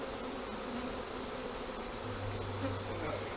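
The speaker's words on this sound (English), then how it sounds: "And then hopefully these bees will go back in their house." Honeybees buzz around an opened hive during a pre-winter inspection, a steady, continuous drone of many insects close by with no talking.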